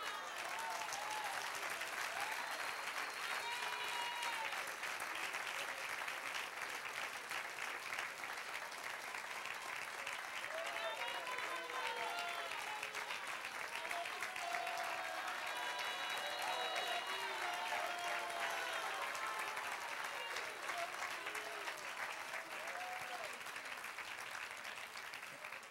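A church congregation applauds during a Spanish-language sermon, sustained loud clapping from a large crowd lasting well over twenty seconds, with scattered voices and cheers mixed in throughout.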